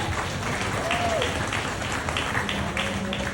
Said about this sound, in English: give a good round of applause to these two young ladies out here from the kids